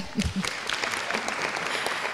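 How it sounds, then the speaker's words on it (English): Brief burst of applause from a conference audience at an environmental session on chemicals and waste, a short patter of clapping that carries at a moderate level throughout. "Give a clap to Mohammed."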